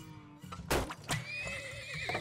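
Horses whinny in the oil-drilling video game Turmoil, a sharp neigh followed by a second one and a long wavering call, fairly clear and without speech.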